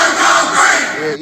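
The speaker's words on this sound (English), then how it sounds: "An angry crowd rushed the riot squad in Southampton." Angry crowd in Southampton roaring and shouting together as it rushes a riot squad, a loud, dense, continuous wall of yelling voices that cuts off abruptly.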